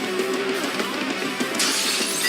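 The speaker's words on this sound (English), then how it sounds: "Oh, they broke the glass." Glass shatters in a televised drama scene, giving a bright, crashing burst with a tinkling spray of fragments near the end, loud and close.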